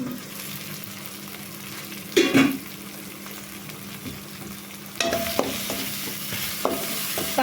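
Tomatoes simmer in a covered pan for prawn gravy, giving a soft continuous bubbling sizzle, with a brief louder clatter early on and some small knocks later.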